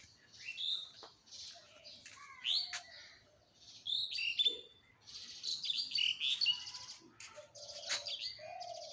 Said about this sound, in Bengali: কত সুন্দর পাখি ডাকতেছে গুগু পাখি